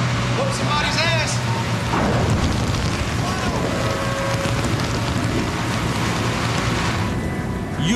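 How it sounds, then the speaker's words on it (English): Heavy rain pouring down on an oil drilling rig during a storm, a dense continuous roar filling the whole stretch, with machinery rumble and a voice faintly under it. "now Steve has to pull their weight in the middle of a downpour"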